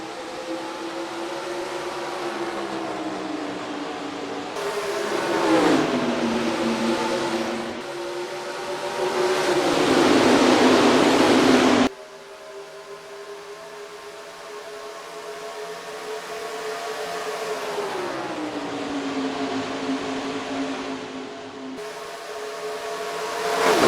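Race cars roaring away at the green flag on a restart at Kentucky in NASCAR Racing 2003, a dense, sustained engine drone that rises and shifts in pitch as the pack accelerates, loud and continuous with abrupt cuts between camera views.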